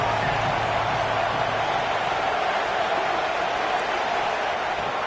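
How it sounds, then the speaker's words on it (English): Stadium crowd in the NCAA 25 college football video game, a dense continuous roar of cheering that holds steady and loud throughout without breaks. "This crowd rising up"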